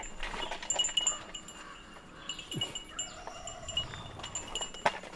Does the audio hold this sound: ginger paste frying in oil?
no